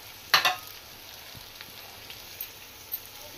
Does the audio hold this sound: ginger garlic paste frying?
yes